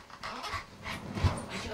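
A small dog pants in quick, soft, breathy bursts with faint whimpering, close by and fairly quiet, in a home setting.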